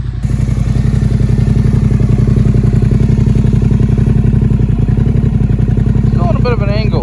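Yamaha Tenere 700 motorcycle fitted with a Camel ADV high-mount exhaust, idling and blipping with a loud, throbbing, steady engine note close by for several seconds.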